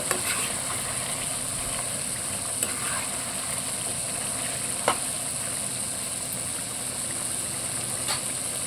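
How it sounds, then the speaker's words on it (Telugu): Steady, close sizzling and gentle bubbling of chicken frying in a pan, a constant hiss with occasional faint clicks and pops, no voices. "ఆ ఉడుగుతున్న సౌండ్ చూసారు అసలు మనకి"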